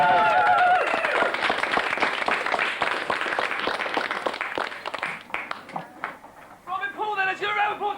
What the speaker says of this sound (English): it's your round of applause for Robin Paul